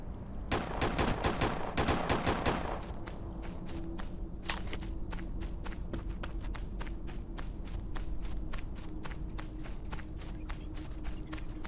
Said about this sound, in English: Actually, I've never had a turret shoot anything before.